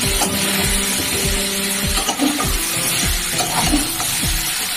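Mutton and papaya frying with spices and bay leaves in a pan for a goat curry, a steady broadband sizzle with repeated low knocks from stirring, loud and close, no talking.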